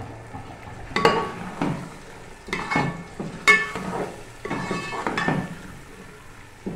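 About half a kilo of chickpeas roast in a pan, sizzling under repeated scraping strokes of a spoon against the metal, several distinct clinking stirs close by with no talk.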